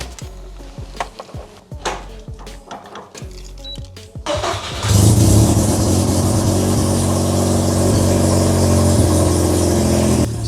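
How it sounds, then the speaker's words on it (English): Mazda RX-7 FD with a rotary engine cranks through several clicking, whirring starter turns, then catches and settles into a loud, steady, close idle. "let me start the car, let me show you what mine does"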